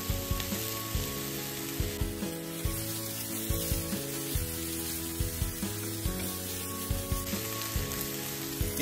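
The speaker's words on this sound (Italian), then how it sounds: "In una padella mettiamo l'olio d'oliva, aggiungiamo il cipollotto, facciamo lo soffritto e aggiungiamo i peperoni." Spring onion and bell peppers fry in olive oil in a pan, giving a continuous close sizzle with intermittent stirring scrapes and soft clatters over a background of music.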